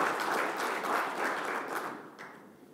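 A lecture audience applauds as a speaker is welcomed to the stage, dense steady clapping that gradually thins and fades toward the end.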